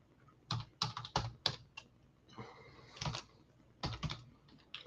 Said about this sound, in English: I'm just going to type this out for everybody.